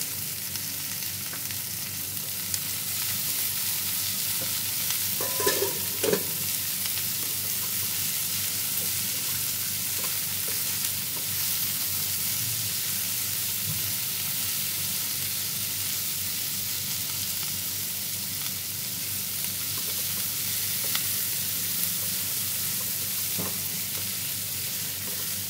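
Vegetables sizzle and fry steadily in a kadhai while being stirred, with occasional clinks of a utensil against the pan throughout, close and continuous with no talk.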